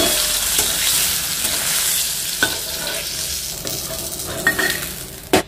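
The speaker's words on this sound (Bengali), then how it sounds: "দেখুন মাছের দুটো সাইড লাল করে ভাজা হয়ে গেছে" Rohu fish frying in oil makes a loud, continuous sizzle, with a few clinks of a utensil against the pan near the end and no one talking.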